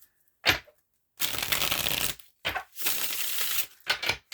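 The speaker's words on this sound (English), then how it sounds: "So I'll do a couple of shuffles this way." Tarot cards riffled and shuffled in several quick bursts separated by short pauses, close and crisp, with no talking.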